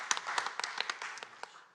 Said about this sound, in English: WeHo, give it a round of applause